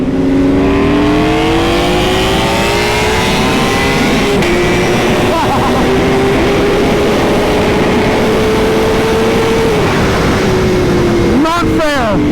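A Ducati V4R motorcycle engine revving very loud and close, its pitch climbing and then holding at a high, sustained whine before a few sharp blips at the end.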